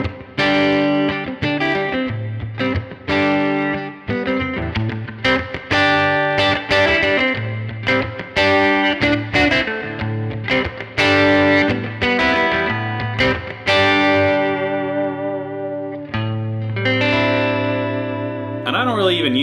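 Electric guitar with P90 pickups played through a clone boost pedal with the volume pushed, giving a driven, slightly distorted tone. It plays a lively, rhythmic run of chords and single notes up close for about twenty seconds.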